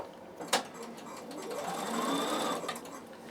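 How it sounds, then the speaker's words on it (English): A sewing machine runs close by as it stitches the last seam of a winter hat, with a brief knock near the start and then a steady whirring run that speeds up slightly and fades at the end. "I stitch from here all the way over the top"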